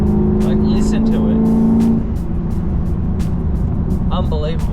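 A Holden VF Maloo with an aftermarket exhaust drones loudly close by, holding a steady note before easing off into a rough rumble, while a person talks over it.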